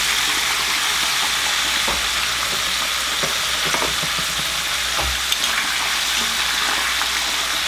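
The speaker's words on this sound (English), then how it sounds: "Now we're gonna just let that side fry." Chicken wings fry in hot oil for crispy fried chicken, a loud, continuous sizzle close by, dotted with sharp pops and crackles.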